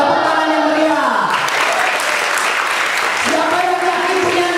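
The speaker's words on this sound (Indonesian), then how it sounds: "Tepuk tangan yang meriah." A congregation at a holiday Bible school session breaks into lively applause for about two seconds, framed by a voice speaking before and after.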